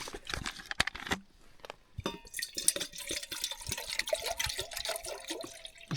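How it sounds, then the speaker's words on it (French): Water poured into a camping cooking pot on a hiking trail, a steady close splashing and trickling stream with scattered drips and clinks. "On met de l'eau."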